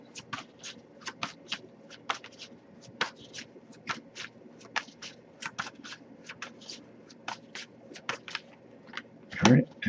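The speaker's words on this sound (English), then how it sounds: "if I don't get anything after I shuffle for a while, I'll just put the deck down and pull cards that way" A tarot card deck being shuffled by hand, with crisp repeated riffles and flicks of cards in an uneven rhythm, close and fairly quiet, ending in a louder burst of handling noise.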